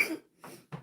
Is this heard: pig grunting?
no